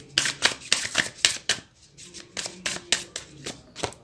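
Tarot cards being shuffled and pulled from the deck, a run of crisp riffling snaps and slaps in a steady, quick rhythm, close and clear, with a short pause midway before the shuffling resumes.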